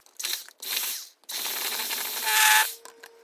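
A handheld electric mixer whirs in bursts through softened butter, with three runs separated by short pauses and the motor pitch rising slightly in the last run before a faint whine trails off.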